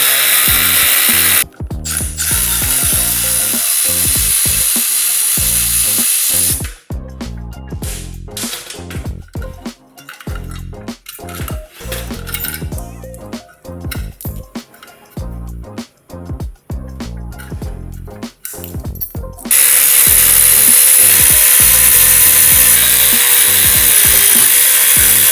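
A power tool spins out the 12 bolts holding a Paragon big brake kit rotor to its ring, loud grinding bursts that start and stop repeatedly, with short pauses between bolts and a steady whir at the beginning and end.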